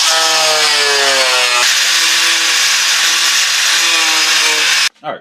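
A cheap Wind rotary tool with a cutting disc slices through a GT500 rear bumper, a loud steady high-pitched whine that dips in pitch partway through, runs continuously for about five seconds, then cuts off abruptly followed by a brief clatter.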